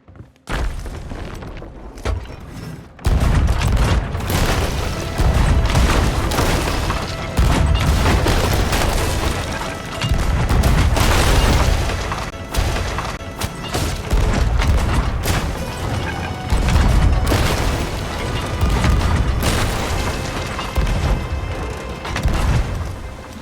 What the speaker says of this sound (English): a few lucky cannonballs had hit the other crew